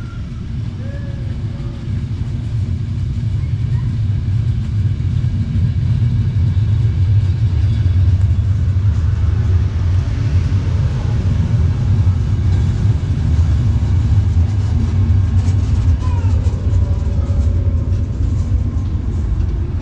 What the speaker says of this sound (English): here we can see the arrival of the other AM80 break here at Spa-Géronsterre